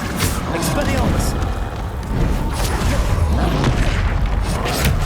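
A spell is cast in the video game Hogwarts Legacy, a loud close burst of booming magical impact and whooshing effects layered over dense game noise, with a spoken incantation mixed in.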